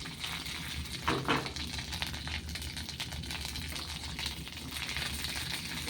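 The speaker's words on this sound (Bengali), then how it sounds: "তো আদাটা একটু ভাজা ভাজা হয়ে গেলে," Chopped ginger fries in hot oil in a pan while making tomato chutney, giving a steady, close crackling sizzle throughout with a brief stronger burst early on and no voices.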